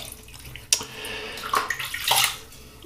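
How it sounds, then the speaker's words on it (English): Tap water runs steadily into a bathroom sink as a face is wetted before a wet shave, with splashing surges near the middle and end of the short stretch. "Let me just wet my face again."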